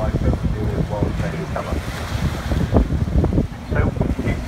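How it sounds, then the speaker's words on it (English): Strong west wind buffets the microphone by the sea at Beaumaris during a lifeboat launch, with gusty low rumbling and the wash of surf beneath. A voice is faintly audible under the wind. "the wind is coming from the west"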